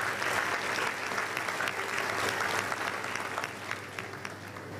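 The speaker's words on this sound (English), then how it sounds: "let's give the Lord a round of applause" An audience at a special convocation lecture claps in sustained, even applause that stays steady and slightly distant, easing off a little toward the end.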